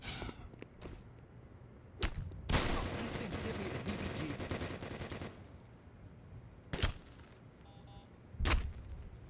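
Automated turrets open fire in Black Mesa, a sustained loud burst of rapid shots lasting a few seconds, framed by isolated sharp cracks before and after it.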